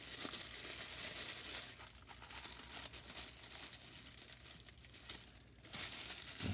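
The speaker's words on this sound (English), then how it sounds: "Just peel the plastic off." Protective plastic film is peeled off a 1/48 scale F-104G Starfighter model kit, giving a steady close crinkling and crackling hiss that continues throughout with small rustling swells.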